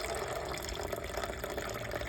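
At a home lotus cultivation setup, water is poured into the lotus pond container, a faint steady splashing and trickle heard close and continuous throughout, with no talk.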